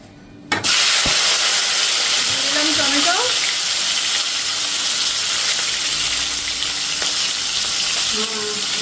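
Loud, continuous hiss of steam from a pressure cooker on the stove, starting abruptly and sustained throughout with a faint voice briefly audible and small clinks near the end.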